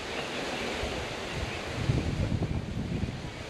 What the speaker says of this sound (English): That's the ocean, Pacific Ocean.